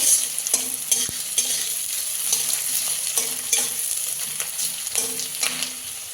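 Sliced onion lightly frying in a pan for a Bengali village-style small fish curry with taro stems, a steady close hiss broken by short scraping stirs and one sharp knock, no voices.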